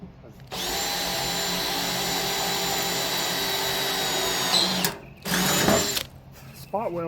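A power drill bores through '80s car body metal at spot welds with a '90s drill bit, a loud steady whine running for about four seconds, then a brief pause and a second short burst, with a voice briefly at the end.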